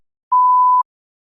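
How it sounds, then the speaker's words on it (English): A single steady electronic beep, about half a second long, sounds alone in an otherwise silent test recording, marking the start of a spoken response. "Please begin speaking after the beep."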